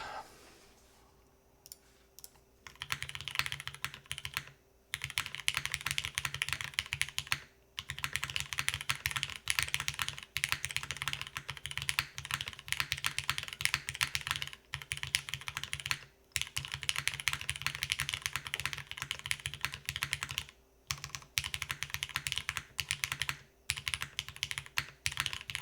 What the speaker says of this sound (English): plug it in, do some typing here.